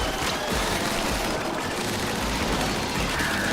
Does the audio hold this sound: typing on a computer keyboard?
no